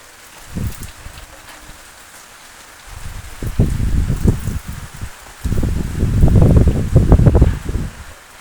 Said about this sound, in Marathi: पाऊस बी चालू आहे वरून